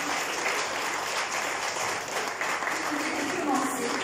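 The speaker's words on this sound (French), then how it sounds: "Est-ce qu'on peut applaudir, mesdames et messieurs, cette belle célébration?" Guests at an anniversary celebration evening applauding together, a thick continuous roar of clapping from a crowd that holds steady for several seconds.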